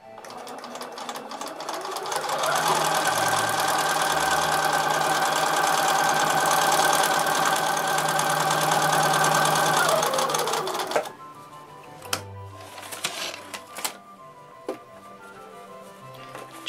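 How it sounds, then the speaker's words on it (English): A sewing machine stitches paper-pieced fabric in one steady run of several seconds that rises to a fast, even whir, followed by soft clicks and handling sounds. "then take it back to your sewing machine"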